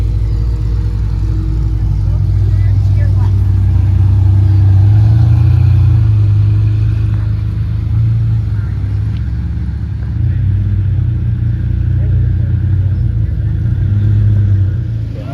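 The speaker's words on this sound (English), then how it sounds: "Ferrari 550 Maranello." A Ferrari 550 Maranello runs loud and steady at a car show, its deep engine rumble swelling and easing with revs throughout, with people talking faintly in the background.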